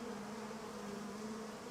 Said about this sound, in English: And I hear some beehives. Where I hear bees.